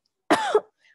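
A single short cough with a throat-clearing rasp at the end is demonstrated up close. It is one sharp, loud burst lasting about a third of a second and followed by silence.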